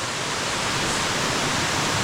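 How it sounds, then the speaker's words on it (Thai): Steady roar of a waterfall pouring through a deep, steep gorge, a dense unbroken wash of rushing water that stays loud and even throughout with no voices over it. "ฟังเสียงน้ำตกไหลครับ เสียงธรรมชาติสดชื่นมากเลย"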